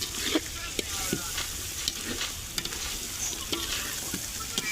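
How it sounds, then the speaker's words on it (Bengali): Curry cooks in a pan with a faint, steady sizzle, punctuated by regular light scraping taps from a spoon stirring it. "আমান তরকারি কেমন হবে? ভালো হবে?"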